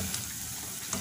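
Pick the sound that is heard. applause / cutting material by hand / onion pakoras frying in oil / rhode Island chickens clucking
onion pakoras frying in oil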